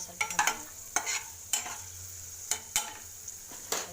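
Peanuts, chana dal and urad dal fry in oil for upma while a spoon stirs them. Sharp scraping strokes repeat every half second or so over a soft, close sizzle.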